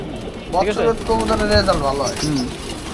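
Racing pigeons on a rooftop give several close, soft throaty coos in quick succession, with faint background noise.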